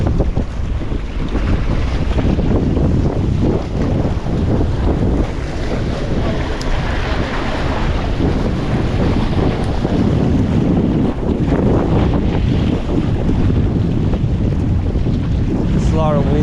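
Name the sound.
strong wind at a jetty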